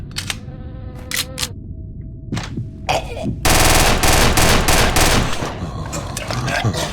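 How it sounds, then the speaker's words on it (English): Weapon reload in the FPS Creator game Euthanasia: a series of sharp mechanical clicks and clacks, then a loud burst of dense metallic rattling and clatter that trails off into softer handling noises, with game ambience underneath. "Gonna take this opportunity to just reload"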